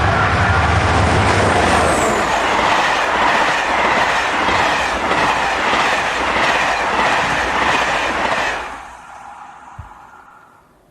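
A class 72000 diesel locomotive (72033) hauls a Paris to Mulhouse passenger train past at speed, loud rumble and rhythmic wheel clatter of passing coaches, fading abruptly as the train clears.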